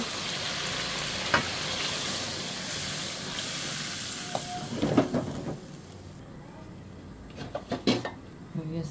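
Pointed gourd and hilsa fish frying in a pan with an even sizzle, then a burst of bubbling and clatter as broth goes in around midway, after which the frying quiets with scattered utensil knocks.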